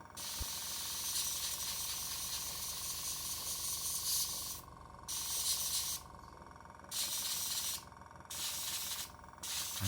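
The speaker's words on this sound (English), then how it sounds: "here we can see me doing my very first kind of approach at spraying on camouflage pattern" An airbrush sprays brown camouflage paint onto model aircraft wings with a close, steady hiss that breaks off into several short bursts separated by brief pauses in the latter half.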